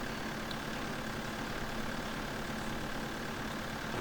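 A small tractor engine runs at a steady, low, rumbling idle in a rural Belgian setting, faint and continuous with no change in pace and no voices.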